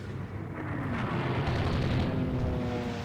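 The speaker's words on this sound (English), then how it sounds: "Pueblo hit by a torpedo." Torpedo striking a warship in the naval strategy game Rule the Waves 2, a dull sustained rumbling explosion with a faint low tone underneath, steady and without speech.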